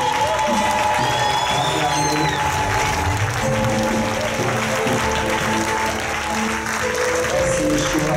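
Congregation in a church service applauding and cheering, a steady wash of clapping and crowd noise filling the whole stretch, with voices mixed in beneath.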